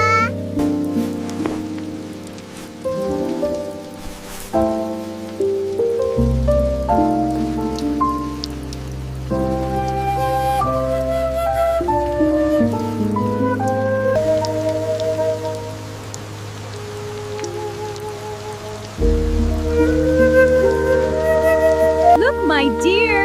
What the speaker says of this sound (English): Oh, it's raining so hard.